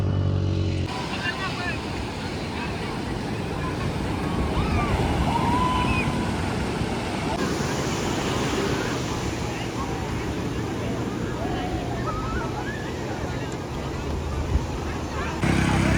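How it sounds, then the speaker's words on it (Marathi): Dangerous-looking sea waves break continuously at Kashid beach, a loud broadband wash of surf with wind buffeting the microphone throughout. "तर मित्रांनो काशीद बीचच्या लाटा बघा. एकदम डेंजर लाटा आहेत."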